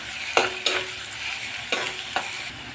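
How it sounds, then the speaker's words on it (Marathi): Onion frying in oil in a pan for a chickpea curry, with a soft steady sizzle broken by several sharp scraping stirs of a spoon. "कांदा भाजतोय आपण"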